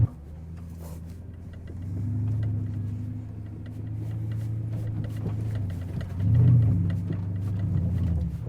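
A car rumbles over soft beach sand at South Beach, Whanganui, with traction control switched off, its engine droning steadily and swelling in a couple of revving surges, close and continuous with no talk.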